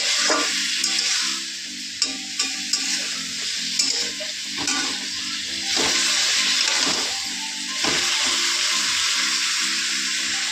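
Stalk curry (data chorchori) cooks in a pan with steady frying hiss, while a utensil scrapes and stirs in repeated clacks across the whole span; no talking.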